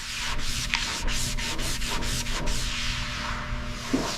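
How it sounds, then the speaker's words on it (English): Steady rhythmic wet sanding of a Chrysler car body, abrasive paper in regular back-and-forth strokes, close and continuous, no voices. "Wet sanding."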